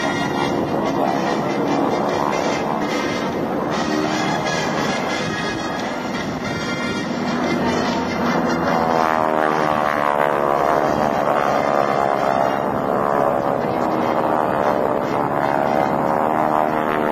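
GEICO Skytypers propeller aircraft rolling in on the target at the McGuire AFB open house air show, a loud continuous drone of piston engines that swells and shifts in pitch as the formation dives past.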